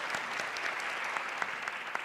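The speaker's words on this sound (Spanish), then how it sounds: "un fuerte aplauso también a nuestros anfitriones de México" At the final day of a public-sector accounting conference in Mexico, the audience gives the hosts a steady round of applause, dense and even throughout with scattered individual claps.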